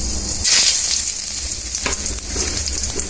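Cumin seeds and bay leaves sizzle and crackle in hot oil, a loud, continuous frying hiss close by, with no voices.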